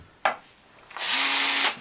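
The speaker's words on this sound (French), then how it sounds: "Attends, ma perceuse." Electric drill, used alongside a Triton doweling and plug-cutting tool: a short click, then the motor spins up into a loud, steady high whir lasting over half a second before stopping abruptly.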